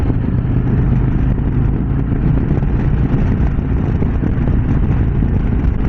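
A 2025 Harley-Davidson Road Glide rumbles steadily at low speed through a slow U-turn, a dense continuous engine drone with wind noise, loud and close throughout, no talk.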